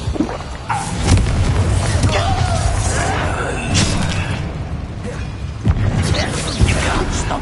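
A Confringo blasting curse goes off in the Hogwarts Legacy video game with several booming, crashing blasts. Heavy impacts and debris land near and loud, with a few sharp hits spread across the passage.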